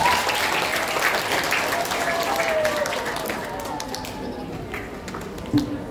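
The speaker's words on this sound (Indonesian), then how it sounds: "Untuk itu kita berikan aplaus untuk para guru pejuang pendidikan Cordova." An audience at a school graduation ceremony applauds the teachers, a dense steady wash of clapping that slowly thins and fades, with a voice briefly heard over it.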